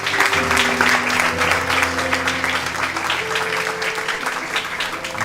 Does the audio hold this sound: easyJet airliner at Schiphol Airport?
no